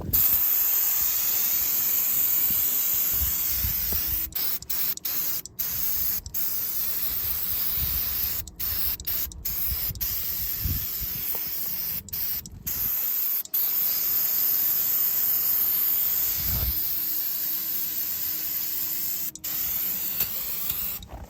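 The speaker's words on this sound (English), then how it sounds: "Let me actually spray this down, clean it up a little bit better" Steady, loud hissing spray of water jetting continuously against logging machinery, with brief dropouts as the stream is interrupted, no voices.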